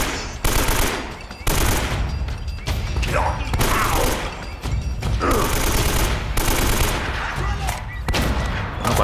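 Rapid bursts of gunfire in the video game Uncharted: Drake's Fortune Remastered crackle continuously, loud and dense, with a few heavy thuds mixed in and no pauses.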